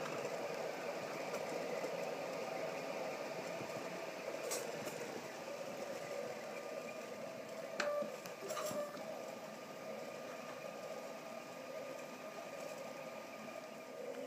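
A Tantillus 3D printer printing small parts at 100 micron layers, a faint steady mechanical hum with soft whirring stepper motor movement and a few brief clicks, continuous and without voices.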